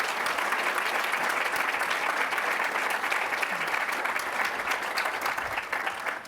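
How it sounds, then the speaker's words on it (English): An audience at a corporate executive leadership forum gives a panel a sustained, dense round of applause. The clapping is steady and fairly loud throughout and fades slightly at the end. "Let's applaud our panel."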